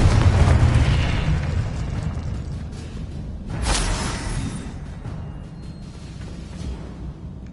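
A Confringo fire spell bursts in Hogwarts Legacy, a loud low booming explosion that rumbles and fades over several seconds, followed by a softer second whoosh and a lingering roar.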